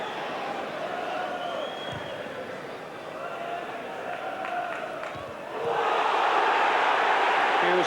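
A football crowd at a Leeds United v Manchester United League Cup semi-final groans and jeers at a foul. A broad murmur swells into a louder, sustained roar of displeasure near the end, with commentary running over it.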